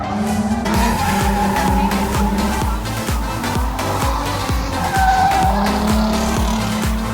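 Cars drift with continuous tire squeal and revving engines, loud and steady throughout, with a rapid pulsing engine rhythm beneath the screeching.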